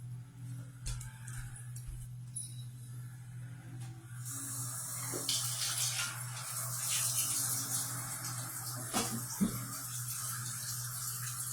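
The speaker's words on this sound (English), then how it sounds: "I've got 1 minute to wash my hands." Running tap water in a sink while hands are washed: a steady hiss that swells louder partway through, with small splashes and clatter over a constant low hum.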